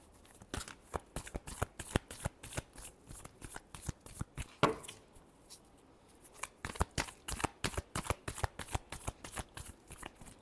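Tarot cards riffle in rapid bursts of crisp flicking and slapping, with a short pause midway before the shuffling resumes, close and clear.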